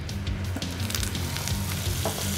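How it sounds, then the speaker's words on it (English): Whole butter hits a hot pan of olive oil and fries with a steady, close, crackling sizzle that holds at an even level without any voices. "And we're gonna add a little bit of whole butter."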